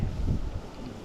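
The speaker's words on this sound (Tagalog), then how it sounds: "Oh, mahangin. Windy." Strong wind buffets the microphone at an outdoor picnic in Gifu, a steady low rumble that swells and then eases slightly, with no voices heard.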